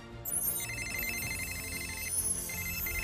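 A phone rings with a warbling electronic trill in two bursts over a dense, busy background of noise.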